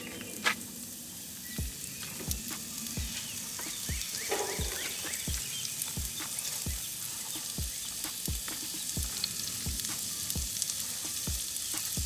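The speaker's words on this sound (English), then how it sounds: "Now we left a little of the bacon fat in here, and we're gonna add the onions." Onions fry in leftover bacon fat, giving a steady, loud sizzle threaded with sharp, regularly spaced crackles and pops, with no voices.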